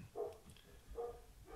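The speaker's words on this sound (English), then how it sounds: "if you hear the dogs barking, there's a bunch of kids out playing" Two dogs bark in the distance outdoors, where kids are playing, giving two faint, separate barks about a second apart over quiet background.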